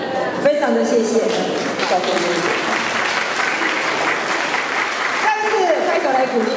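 A church congregation applauds in a chapel, with sustained clapping from many hands filling the space, swelling at the start and again near the end.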